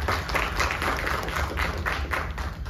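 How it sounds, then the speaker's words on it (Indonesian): Seminar audience at a creative-agency organizational communication strategy talk clapping steadily, a moderate, continuous spatter of applause from a room of people. "Kita beri aplaus dulu dong buat kita semua."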